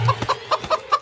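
A loose chicken clucks in about five short, evenly spaced calls over roughly a second. The calls are close and fairly loud, with no voices.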